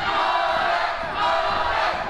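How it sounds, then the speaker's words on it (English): At a live independent pro wrestling show, the crowd roars and chants for a wrestler in a loud, sustained swell of cheering that fills the whole moment without letup. "Crowd again getting behind Mullet Man"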